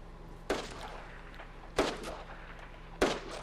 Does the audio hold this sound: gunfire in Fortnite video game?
yes